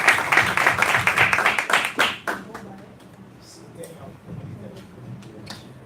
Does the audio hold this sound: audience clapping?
yes